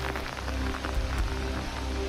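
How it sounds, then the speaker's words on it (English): Steady rain falls during a humid wet season in crocodile country, a dense, continuous patter on surfaces with a few louder drops, close and unbroken, with no voices. "The irregular rains are pushing humidity levels sky high."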